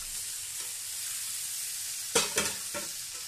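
Potatoes frying in a pan for a liver chorchori, a steady soft sizzle with a few sharp stirring scrapes near the end, close and fairly quiet.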